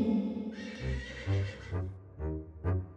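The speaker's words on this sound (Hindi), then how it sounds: "लेकिन तभी उसने एक घोड़े की आवाज सुनी।" A horse neighs in a fairy-tale scene, a loud, close whinny followed by a couple of shorter snorting neighs, with no other sounds.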